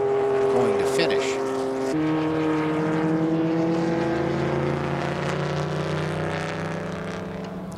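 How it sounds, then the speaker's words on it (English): Vintage race car engines drone loudly as cars cross the finish line at an SVRA race at Indianapolis, one high engine note dropping into a lower steady roar, with commentary talking over it. "we still have to wait for the other Group 12 cars to cross the line"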